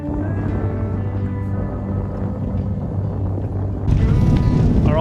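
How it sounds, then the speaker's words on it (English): Steady roaring wind of about 20 knots buffets the microphone with a low rumble and flapping noise, growing harsher and louder toward the end. "the wind's blowing relatively, it's probably about 20 odd knots"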